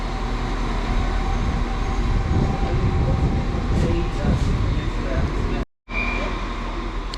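Class 196 train 196001 at a West Midlands station platform, working a service to Leamington Spa: a steady low rumble and hum of the idling or slowly moving unit, broken briefly by a short drop out, with background voices.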